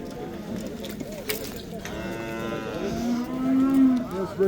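Dairy cows at an outdoor livestock bazaar in Nookat, Kyrgyzstan, low repeatedly, with one long, loud moo rising near the end over crowd noise and people talking.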